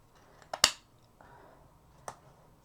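A couple of sharp scissor snips cutting paper to make decorative paper clips, close and crisp, with a quiet pause between the cuts.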